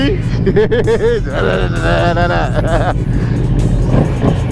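A loud, deep 2020 Ducati V2 motorcycle engine rumbles steadily, revving up and down, with someone talking excitedly over it.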